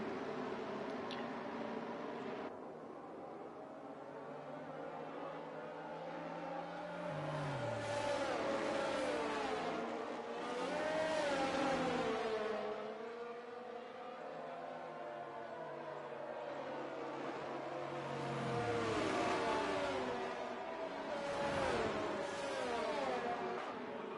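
F1 race cars in the F1 2023 video game at the Japanese Grand Prix rev and whine continuously at high pitch. Engine notes rise and fall over several gear changes, loud and steady throughout.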